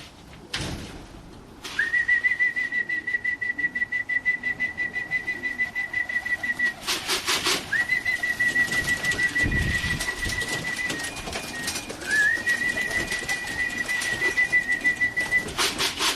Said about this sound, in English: I'm going to drop the trap board now, whistle the birds